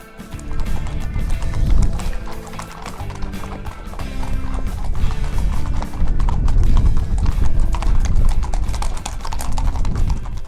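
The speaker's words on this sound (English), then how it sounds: "that's all the horses that have left the yard now" Many racehorses clip-clop steadily on a hard yard surface, hooves overlapping in a continuous loud clatter as they walk past.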